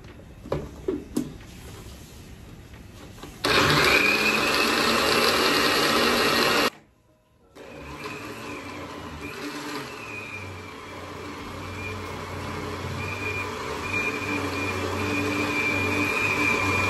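A kitchen blender whirs loudly for a few seconds blending mango for popsicles, stops abruptly, then runs again at a lower, steadier hum, close by with a few clicks at the start.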